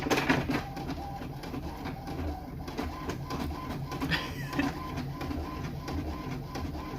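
Home printer churns out a shipping label, a close mechanical whir with rhythmic clicks and feed rattles running steadily throughout, faint bird cooing mixed in behind.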